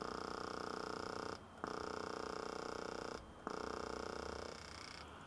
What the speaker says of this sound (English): You can hear the air escaping